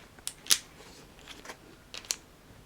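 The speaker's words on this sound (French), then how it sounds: "le sac il est équipé d'un feedlock qui est très satisfaisant à ouvrir et fermer" A Fidlock magnetic buckle on an ALPAKA Go Sling Mini bag snaps open and shut, giving a few close, sharp clicks with two stronger snaps, heard alone against quiet background.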